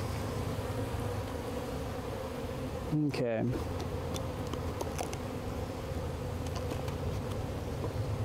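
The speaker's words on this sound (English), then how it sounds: "We don't want bees flying around too much" Honey bees at an open hive during a live beehive installation, a continuous low droning hum running throughout at a steady level, with a voice speaking briefly partway through.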